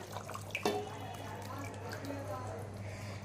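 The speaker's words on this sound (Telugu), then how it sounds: "మనం పక్కన పెట్టుకున్న చింతపండు పులుసుని పోసుకోవాలి" Thin tamarind extract is poured into a kadai pan of fish curry, giving a soft liquid splash and trickle that quickly settles under quiet talk.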